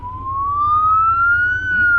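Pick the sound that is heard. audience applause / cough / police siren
police siren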